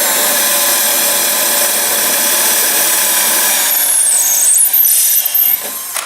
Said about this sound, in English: You want to drill through with a masonry bit.